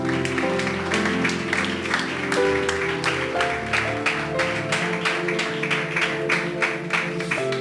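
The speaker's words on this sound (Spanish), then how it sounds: "Denle un aplauso a Dios por eso." A Spanish-speaking church congregation at a Sunday school service claps in rhythmic applause alongside loud music, with steady beats running throughout.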